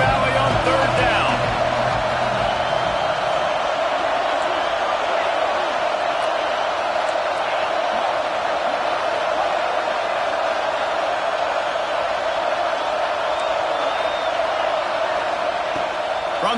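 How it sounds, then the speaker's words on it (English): A big football crowd at Happy Valley roars on third down, a dense, sustained wall of noise that stays steady and loud throughout, with a commentator's voice over it at the start. "Here comes the noise from this big crowd in Happy Valley on third down"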